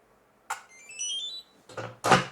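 A fireproof fingerprint safe gives a short electronic beep sequence of rising tones between clicks and clunks, close by, with a latch-like knock at the end.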